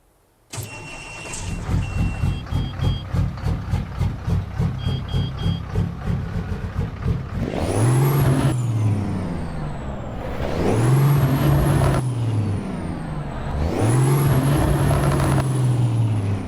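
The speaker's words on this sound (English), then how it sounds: "One thing I do want to show you guys is the engine sounds." A Cummins N14 truck engine in American Truck Simulator cranks and starts, settling into a loud, steady idle, then revs hard three times, each run climbing and falling in pitch with a high turbo whine on top.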